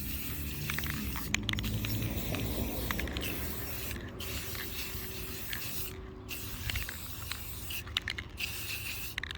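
Short bursts of Rust-Oleum black gloss spray paint hiss from an aerosol can, several separate sprays with quiet gaps and faint handling noises between.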